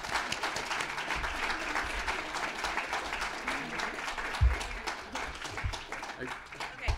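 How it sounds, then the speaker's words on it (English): At an admitted students reception at The New School, the audience gives a panel a round of applause: scattered, sharp claps and crowd murmur, with voices talking through it and a few louder claps near the end. "A round of applause for the panel, and Dana, back to you."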